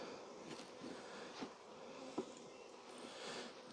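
Honey bees buzzing around hive frames, a soft continuous hum with a few faint knocks and clicks, fairly quiet and without voices.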